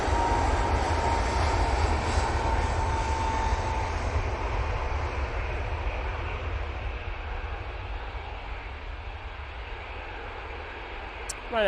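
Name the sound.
Ryanair plane from Rome landing at Manchester Airport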